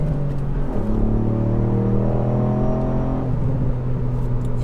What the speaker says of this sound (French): entendez un peu les détonations à l'échappement